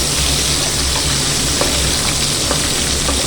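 Something frying in a pan until deep red and crisp like fried onions: a loud, dense, unbroken sizzle close up, with a few small pops and no speech.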